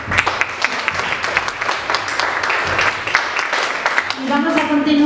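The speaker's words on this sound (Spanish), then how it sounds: "les damos un fuerte aplauso" A conference audience gives a strong round of applause for the speakers of a panel on land, natural resources and family farming. The dense clapping is loud and close, and a voice starts speaking as it fades at the end.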